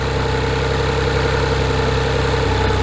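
A 1999 Chevy Metro engine idles steadily while warming up, a continuous close-up drone with a low hum and no talk over it.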